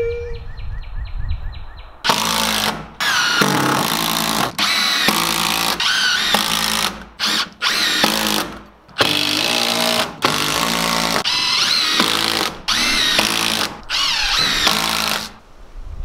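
A Milwaukee power tool in use on a cabin build revs in a rapid series of loud, close bursts broken by short pauses, after a brief electronic beep at the start, with no talking.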